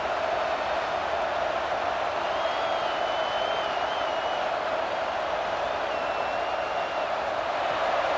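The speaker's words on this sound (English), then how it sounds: "The roar of the crowd trying to fuel this defense to keep them pinned in their own end" A stadium crowd roars in the College Football 26 video game, a dense, steady wash of cheering that holds without a break, with a faint whistle-like tone drifting over it.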